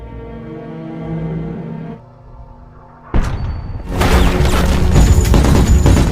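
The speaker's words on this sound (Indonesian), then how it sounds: "Setelah tembakan asap dilepaskan ke udara, mereka pun mulai beraksi." A smoke round fired into the air during a film action scene: a sudden sharp burst breaks a quiet stretch, followed by a loud, dense roar and rumble that continues to the end, with no talking.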